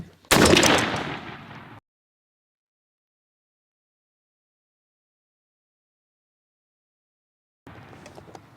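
A single loud, close blast from an Impala Plus shotgun with a stock full choke, firing Rogue TSS 9-shot at a 40-yard target from a lead sled, decays quickly into silence before faint sounds return near the end.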